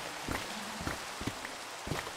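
Rain falls in a Minecraft world as a faint, steady hiss under the rest of the scene. Soft footstep-like taps come in a loose rhythm.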